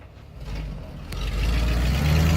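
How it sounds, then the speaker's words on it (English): A 1988 Chevy one-ton plow truck with a broken-off exhaust rumbles loudly up close, its deep engine drone swelling and growing heavier over the final second and a half, with no voices. "So now the truck is very, very loud."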